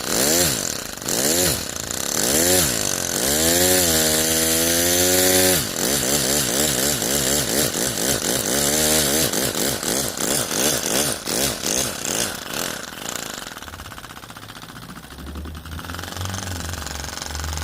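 A 3D-printed single-cylinder air engine runs loudly, its rapid exhaust pulses speeding up and slowing in steady, close bursts before easing off at the end.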